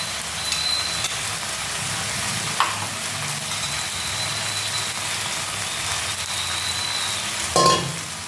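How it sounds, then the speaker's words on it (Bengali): Soybean chunks with spices fry in a pan with a steady, loud hiss of sizzling throughout, plus a couple of brief scraping stirs. "এখন এটাকে ভালো করে ফ্রাই করতে হবে"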